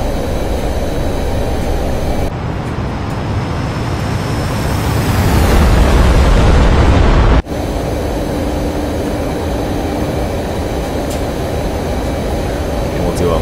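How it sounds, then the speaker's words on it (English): An F-15C jet engine in the combat flight simulator DCS, a loud roaring rush that swells when the afterburner kicks in, then cuts off abruptly and drops back to a lower steady engine drone, under talk. "when you throw in the afterburner, just listen to the sounds"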